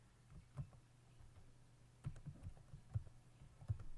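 Keys on a computer keyboard tapped while a password is entered at a console, a few sparse, quiet clicks spaced irregularly against a low steady hum.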